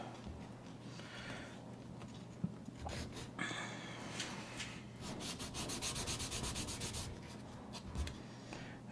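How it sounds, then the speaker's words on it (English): Quiet, continuous rubbing of sandpaper over the excess material on a scale-model seat belt, with uneven strokes and a few soft knocks, heard alone. "sand down the excess"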